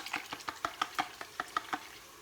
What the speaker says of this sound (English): So we're just going to give that a really good mix.